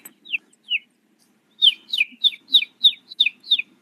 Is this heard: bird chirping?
yes